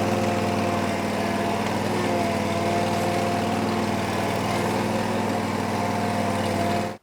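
A lawn mower engine runs at a steady, loud drone with a strong low hum, unbroken for about seven seconds before cutting off abruptly at the end.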